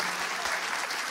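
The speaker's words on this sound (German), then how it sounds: "gebt dem Ido mal einen kräftigen Applaus." Steady, dense applause from a congregation during a church service fills the whole short stretch at an even, moderately loud level.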